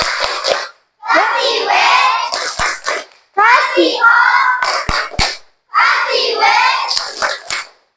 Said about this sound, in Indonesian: kita tepuk tangan untuk kita semuanya dengan tepuk wow keren